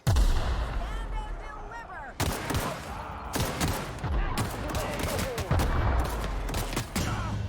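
Bomb blast and heavy combat in the video game The Outer Worlds, a sharp loud explosion at the start followed by repeated booming hits and gunfire bursts, dense and close, with a voice speaking faintly underneath.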